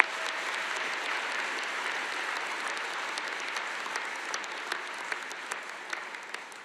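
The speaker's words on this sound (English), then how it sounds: "Please give them a round of applause." A large audience at a new student convocation claps steadily in a dense, sustained wash of applause that slowly thins toward the end.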